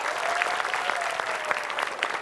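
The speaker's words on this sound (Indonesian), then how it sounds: "Buat penonton yang ada di rumah, boleh kasih tepuk tangannya." Studio audience at an Indonesian television show claps in a dense, steady wash of applause that holds evenly for a couple of seconds, with a faint sustained tone running underneath.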